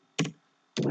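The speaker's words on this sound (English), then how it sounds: "press the tab key to go to the next column" Two distinct keypresses on a computer keyboard, close and crisp, separated by a brief silence.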